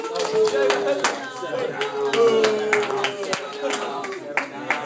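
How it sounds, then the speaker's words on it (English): Scattered audience clapping as a club president is introduced, a few sharp individual claps near the microphone over a continuous murmur of voices talking throughout. "Hey, we should clap, please."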